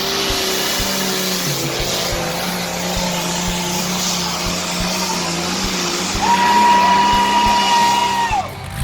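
The Barnstormer pulling truck drives at a truck pull in Emmett, Idaho, its engine a loud, sustained droning roar that swells near the end, where a high whining tone holds for a couple of seconds.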